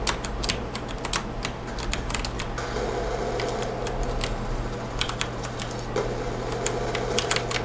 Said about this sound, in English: this will just give you an idea of what the keyboard sounds like